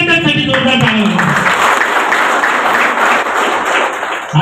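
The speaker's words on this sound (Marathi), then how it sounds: "म्हणून या कार्यकर्त्यांसाठी जोरदार टाळ्या." Loud applause fills a packed hall at a youth wing workers' political meeting in Bhiwandi, a dense sustained clapping roar that begins as a voice finishes speaking and continues for several seconds.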